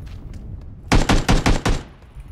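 Covering gunfire in a squad shooter video game comes as a tight volley of five or six loud, close shots in quick rhythm, ending abruptly in quiet.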